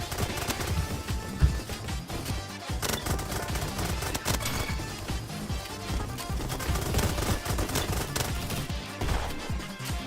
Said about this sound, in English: This gun is performing well in my bursts.